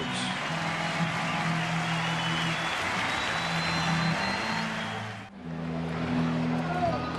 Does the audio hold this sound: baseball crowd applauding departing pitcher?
yes